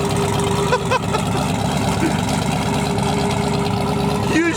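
A twin-turbo 1972 Winnebago engine runs in a steady, loud drone with a rising turbo whine near the end, heard close up with voices mixed into the rumble.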